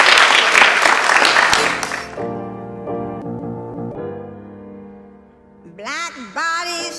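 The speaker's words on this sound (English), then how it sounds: "so let's give him a round of applause" Loud applause from an event audience fills the first two seconds, then cuts off and gives way to sustained musical tones and a voice.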